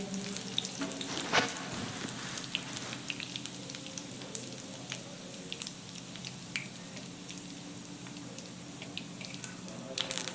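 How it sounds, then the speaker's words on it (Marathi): Cumin, mustard seeds, garlic and curry leaves sizzle and crackle in hot oil, a steady close frying hiss broken by small sharp pops throughout. "यामध्ये कडीपत्त्याचा तडका दिलेला आहे"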